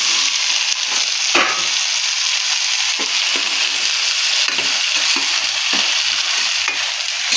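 Boiled black-eyed peas are stirred in a pan over steady sizzling, with soft, repeated scraping strokes running continuously throughout.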